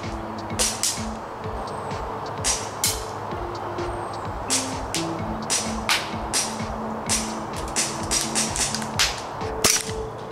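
An ICS ICP airsoft pistol fired repeatedly for an accuracy test, heard as a steady string of sharp, close snapping shots spaced about a second apart over constant background hum.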